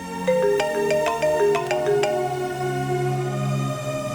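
A phone ringtone for an incoming call plays as a bright, repeating melodic chime of plucked notes that rises and falls several times, fairly clear and alone, fading slightly toward the end.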